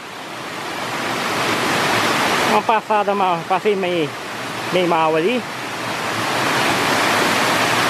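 A tall waterfall at Ponte Nova in Palmeiras de Goiás roars as a steady, dense rush of falling water throughout, while someone speaks briefly over it.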